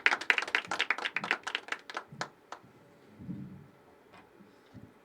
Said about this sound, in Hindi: एक बार जोरदार तालियों से स्वागत करते हैं रावी का